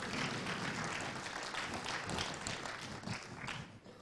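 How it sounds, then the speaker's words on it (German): Audience applause at a live science presentation in a lecture hall, a dense, steady wash of clapping from a sizeable crowd lasting about four seconds, fading slightly toward the end. "Auch bitte einen Applaus"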